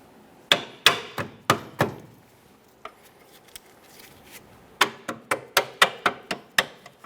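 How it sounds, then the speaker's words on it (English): Hammer blows tap an 18mm upper control arm bolt out of position on a 2007-2017 Jeep Patriot's rear suspension: a quick run of five sharp metallic strikes, a pause with a few faint knocks, then about nine more rapid close hits. "Since I do have some movement, I'm going to lightly tap this out of position"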